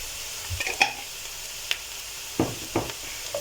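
A teaspoon of cumin seeds sizzles in hot oil for a potato stew, a steady hiss under scattered pops, clinks and stirring knocks from the pan.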